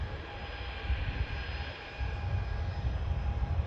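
Boeing 787 Dreamliner touching down at Manchester Airport, heard as a low engine rumble with a faint steady whine, swelling slightly partway through and staying fairly distant, with no talk over it.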